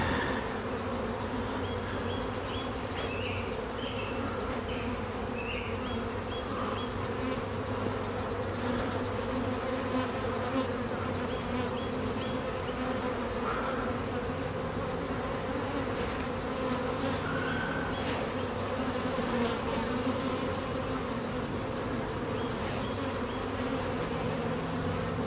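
Honeybees packed into an overflowing hive box, crowded enough to be preparing to swarm, give a dense, continuous buzzing drone that stays steady and close for the whole stretch.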